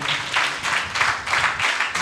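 Church congregation applauding in loose rhythmic waves of clapping, fairly loud and close, repeating pulses over about two seconds without speech.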